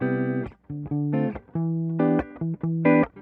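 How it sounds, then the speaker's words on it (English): Clean electric guitar tone darkened by a low pass filter for a mellow jazz sound, playing a short phrase of sustained chords and notes, close and clear with no talking. "This is a nice, low pass filter, so I can get some cool jazz tones."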